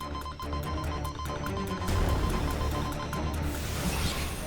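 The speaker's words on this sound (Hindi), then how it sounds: "बदौल का फोन" A phone rings in a tense household scene of a children's fantasy drama, its repeated electronic bell pattern sounding over a dense music and effects bed, loud and close throughout.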